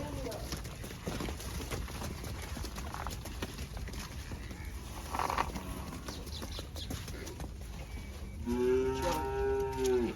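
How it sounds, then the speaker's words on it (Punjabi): Buffaloes on a farm give a deep, drawn-out moo near the end, with hoof clops and general farmyard bustle throughout, plus some background talk. "ਲਓ ਜੀ ਮੱਝਾਂ ਆ ਗਈਆਂ ਨੇ"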